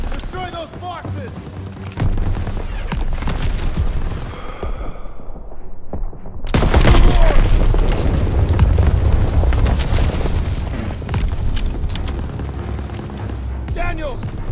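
Ammo boxes blowing up in the Call of Duty WWII shooter, loud booming explosions and heavy gunfire, a big blast erupting about halfway and sustained rumble after, with shouted voices mixed in.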